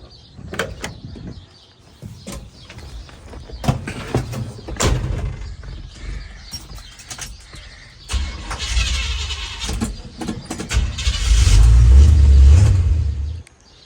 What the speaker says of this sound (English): The motor's running decent.